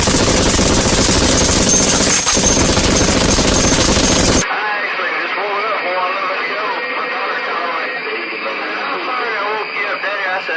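Machine gun fire played as a sound effect over a CB radio, a loud, harsh, distorted burst of rapid gunfire that cuts off into a radio channel carrying fainter chatter.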